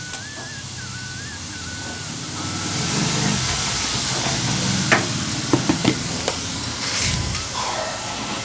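Onion and tomato fry in a pan for a home-made Tamil egg curry, giving a steady close hiss and sizzle, with a few sharp clinks and scrapes of stirring midway and no talking.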